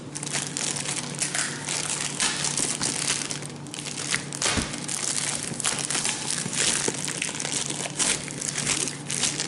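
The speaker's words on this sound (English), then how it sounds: "Let me just take the foil." Foil wrapping torn off a festival beauty kit box of makeup and skincare: continuous loud crinkling and crumpling, close up, with no voices.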